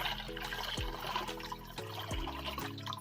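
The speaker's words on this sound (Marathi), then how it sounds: "त्यावर आता आपण ते अंडे बुडतील एवढं पाणी ठेवायचं आहे" Water pours into a cooking pot over eggs for egg curry, a close, continuous splashing fill lasting a few seconds with no voices.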